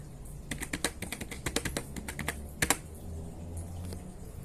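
Fingers typing on a computer keyboard while installing Ubuntu Server, a run of crisp key clicks at close range, then a pause and a couple of sharper presses before it trails off.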